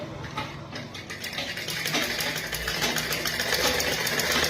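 Sewing machine running a topstitch along cloth, a steady close mechanical chatter that builds slightly in speed and loudness over several seconds, with no voice over it.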